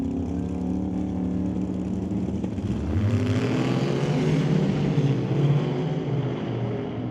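The quickest conventional small block Chevy drag race car makes a quarter-mile run, a loud continuous engine roar that swells into a harder surge midway and then carries on at full power.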